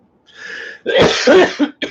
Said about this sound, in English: Sorry, got a cough.